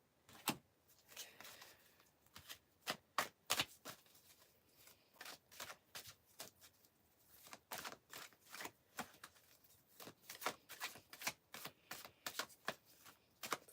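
Tarot cards shuffled and pulled by hand, a long run of crisp riffling snaps and soft slaps repeating in irregular bursts, close and fairly quiet, with no talking.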